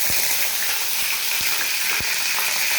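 Bay leaf and whole garam masala spices crackle in hot oil, a dense continuous sizzle with a few soft thumps of utensil contact, close and loud with no voices.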